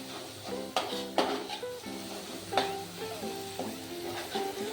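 Masala and curry leaves being stirred in hot oil in a pan for a dry ridge gourd (gangaphal) bhaji, a steady sizzle under scraping strokes and a few sharp clinks of the spoon against the pan.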